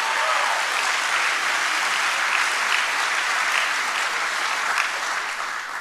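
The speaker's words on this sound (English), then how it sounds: "Somebody clap, give God the glory." Sustained applause from a church audience at a Mario Murillo sermon, a dense, even patter of clapping that holds steady for several seconds before easing slightly.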